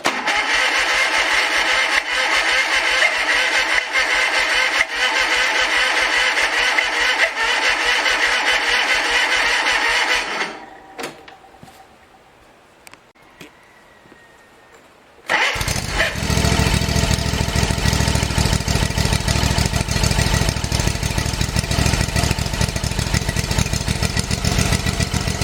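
A Hustler zero-turn mower engine that had been sitting runs loud and steady, cuts out for a few seconds of near quiet, then fires up again and settles into a strong, even idle.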